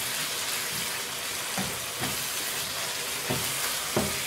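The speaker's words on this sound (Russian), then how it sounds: "Также помешиваете." Minced meat filling with parsley stirs as it simmers in a pan on low heat, a steady soft sizzle broken by a few light scraping knocks of the spoon.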